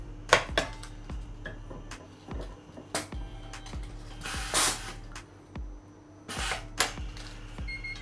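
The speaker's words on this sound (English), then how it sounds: "So it's basically vinyl tape that gets welded on by like an iron." A motion picture film splicer heat-welds vinyl tape onto film in a lab, giving soft clicks and clunks of the mechanism with a brief hissing burst, over a steady low machine hum.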